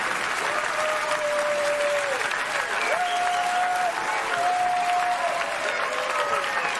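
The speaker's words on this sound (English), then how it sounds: "Give yourselves a big clap, everyone." A crowd claps steadily after children finish dancing, a continuous wash of applause held at a lively level while a voice and sung tones float over it.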